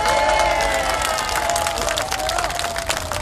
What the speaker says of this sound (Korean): 정현호 승자 교수님께 큰 박수 한번 다시 보내겠습니다